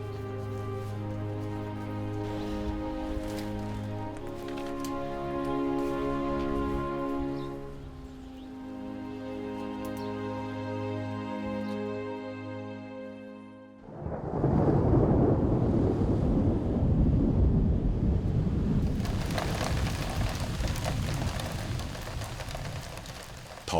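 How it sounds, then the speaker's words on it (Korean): A sudden summer rain shower in a quiet village in Hwarim-ri, Chungcheong, bursting in as a loud, dense wash of falling rain and rattling drops after a stretch of sustained tones, continuing steadily to the end. "더위를 달래줄 시원한 소나기가 내립니다"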